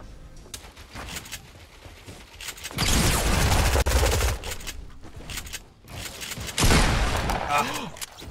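Gunfire in the battle royale game Fortnite, bursts of rapid shots in two loud volleys separated by quieter stretches, with a player talking between them.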